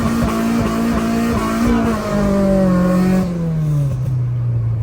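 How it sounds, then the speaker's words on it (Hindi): A K24-swapped EG Cultus hatchback accelerates hard on a night track, its engine note rising through the gears with wheel spin in the first gears, loud and close throughout before easing off near the end. "पहले 2 गियर पूरे व्हील स्पिन और तीसरे के अंदर भी वावा स्पिन"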